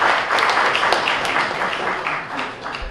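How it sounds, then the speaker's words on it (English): An audience applauds, a dense patter of many hands clapping that gradually tapers off over a few seconds. "Please let me give him a round of applause once again."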